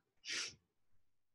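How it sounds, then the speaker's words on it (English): A single short, sharp sneeze bursts out close and clear, followed by a faint breath in a quiet room. "Excuse me, I'm going to sneeze."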